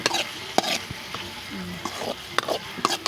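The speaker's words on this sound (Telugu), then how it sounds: "టమాటా వేసాం కాబట్టి ఇది బాగా కలపాల" Tomato being stirred into a mutton curry in a pan, a gentle sizzle with several sharp scrapes and clacks of a spoon against the pan, close by.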